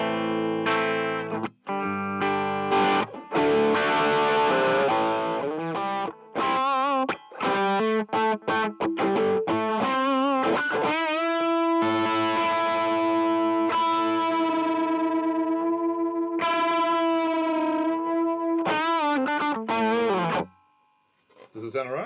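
Clean electric guitar tone played through a Boss OD-200 overdrive pedal: a loud, continuous run of chords and single notes, some stabbed with brief gaps, ringing alone until it fades out near the end.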